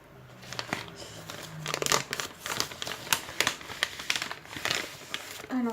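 An envelope of mail being torn open and handled, with close crinkling, ripping and paper rustles in uneven bursts, and a voice faintly present at times.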